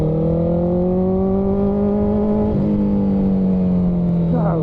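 Motorcycle riding in traffic, its engine note loud and steady with a pitch dip partway through and a rising rev near the end, with nearby car noise blending in.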